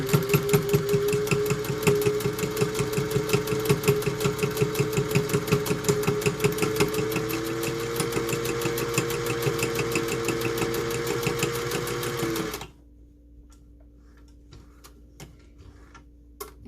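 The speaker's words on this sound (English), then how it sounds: "I'm going to sew along here" A sewing machine stitches a scrap-fabric face mask with a fast, steady mechanical whir and rapid ticking for about twelve seconds, then stops, leaving faint clicks.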